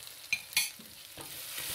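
Spices are stirred into fish curry in a pan, with a few distinct scraping knocks of a spoon over a quiet background sizzle.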